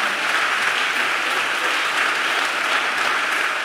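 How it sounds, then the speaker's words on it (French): A church congregation at a conference in Porto-Novo, Benin claps their hands for the Lord, a dense, even wash of applause held steady throughout at close range, with no clear speech over it. "Clap your hands for the Lord."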